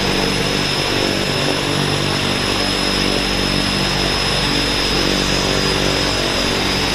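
A floatplane at the Vancouver float base takes off, its propeller engine droning loud and steady for the whole stretch, with a continuous broadband roar and a sustained high whine, no talk.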